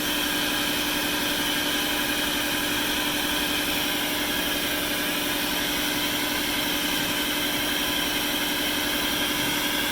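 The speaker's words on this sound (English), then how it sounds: "This air nozzle does use quite a bit of air, so my air compressor kicks in quite often." An air compressor runs steadily beside a 15W engraving laser on an Avid Pro CNC machine, supplying an air nozzle, a continuous loud mechanical drone and hum with no pauses or talk.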